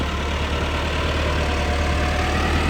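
A Massey Ferguson MF 385 tractor engine idles steadily in a maize field, a continuous low diesel rumble with an even throb, close and constant with no speech.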